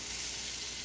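Mozzarella-stuffed meatballs sear in a crowded, very hot pan, giving a steady, dense sizzle and hiss that fills the brief moment without pause.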